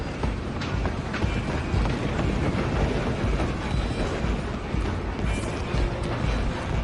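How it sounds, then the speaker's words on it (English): Train rolling on rails in the video game Red Dead Redemption 2, a steady dense rumble with faint rhythmic clatter from the wheels, continuous and close throughout with no break. "I'm gonna ride ahead and stop the train!"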